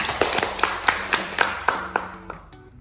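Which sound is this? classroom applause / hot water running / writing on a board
classroom applause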